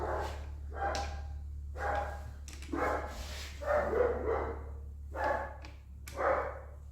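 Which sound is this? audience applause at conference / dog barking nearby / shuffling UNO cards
dog barking nearby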